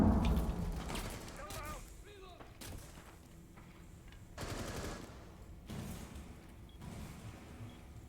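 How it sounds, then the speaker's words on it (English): Gunfire in a 2v2 video game match, bursts of shots and booming impacts over an ongoing noisy background, with a voice speaking over part of it. "what a beautiful little headshot from Skillless against Xumi"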